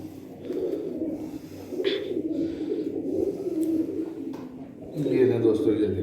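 A female pigeon, a breeding hen raising chicks, coos in low, soft repeated phrases close by, with someone talking over the cooing.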